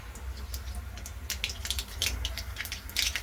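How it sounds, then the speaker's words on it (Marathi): Mustard seeds spluttering in a ladle of hot oil in a kadhai on a gas stove: scattered sharp crackles and pops of varying loudness over a low steady hiss and burner rumble, with no talking. "मोहरी तडतडली छान"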